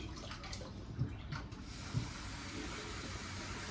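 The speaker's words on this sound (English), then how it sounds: "So we're gonna add some cold water in here." Cold water pours from a tap into a bowl in a home kitchen, giving a soft, continuous rushing splash at moderate distance, with a couple of small knocks and no talking.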